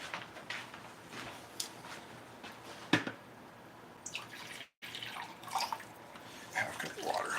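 Half a cup of water pours in a home kitchen while pizza sauce is made, a faint trickle and drip heard close by against quiet room noise, briefly interrupted.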